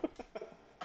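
A few short, quiet coughs come in quick succession, close by, with small pauses between the bursts and no speech.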